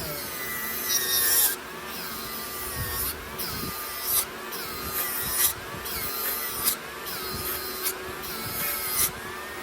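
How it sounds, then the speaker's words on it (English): An abrasive wheel grinds a Kershaw Blue Mountain 3130 folding knife during restoration, a steady whirring rasp broken by repeated short passes of the blade against the wheel, close and fairly loud. "So let's switch over to our abrasive wheel here."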